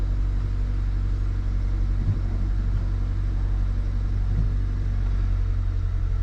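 A 2016 Mazda CX-9 SUV engine idles steadily after starting, a loud, constant low rumble with no talk over it.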